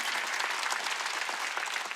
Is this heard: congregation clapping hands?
yes